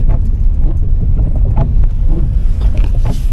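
Steady engine and road rumble from inside a car driving through wet, stormy weather in Aurich, East Frisia; the low drone runs continuously with faint creaks and rattles and no talk.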